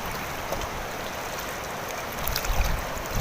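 A large river flows steadily past at close range, a broad continuous rush of water with a slight swell of churning near the end.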